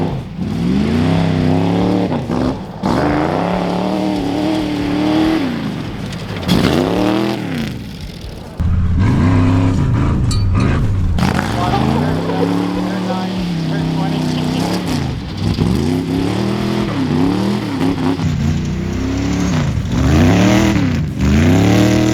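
A Ford Galaxie with a blown transmission revs and drifts on a wet track, its engine rising and falling in repeated surges with brief dips, while a voice talks over the noise.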